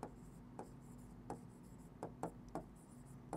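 Pen or marker writing during a math class, a quiet run of short scratchy strokes at uneven intervals against a faint room hum, close and soft with no talk.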